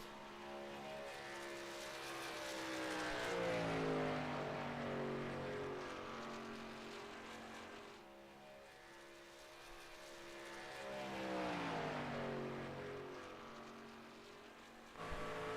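A race car laps Talladega, its engine note rising and falling in pitch as it passes twice in long sweeping swells, heard from a distance.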